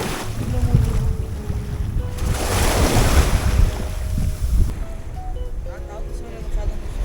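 Ocean waves surge and wash under strong wind buffeting off Zambales, Philippines, with a boat's hum and people talking over the churning water.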